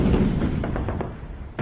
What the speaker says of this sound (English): His name for this type of artillery fire was Trommelfeuer, which means drum fire.